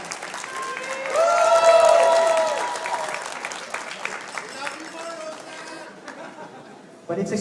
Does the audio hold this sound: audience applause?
yes